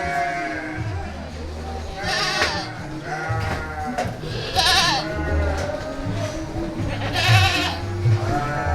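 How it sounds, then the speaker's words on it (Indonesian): Several Garut fighting sheep bleat in bursts through a busy pen, some calls loud and close, others overlapping with murmured voices nearby. "Nah, kita ada domba adu juga di sini."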